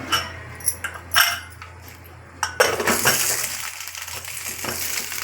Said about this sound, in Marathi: आणि नंतर कुकरचं झाकण लावूया